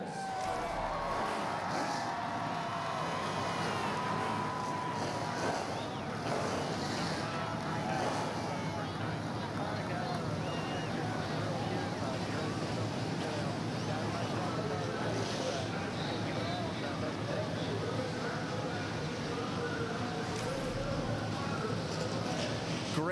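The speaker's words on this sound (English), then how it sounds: "Engines fired up, ready to go racing here in Milwaukee." Stock car engines idle and rumble together at the Milwaukee track before a 2007 NASCAR Busch Series race, a steady, loud mass of engine noise with wind and announcer voices over it.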